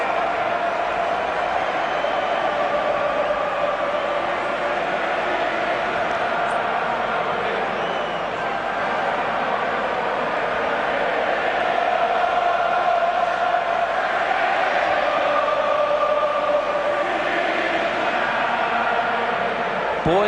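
A large rugby stadium crowd at England versus Wales, 2003 World Cup quarter-final in Brisbane, a steady roaring wash of cheering and chanting that holds loud throughout, under faint commentary.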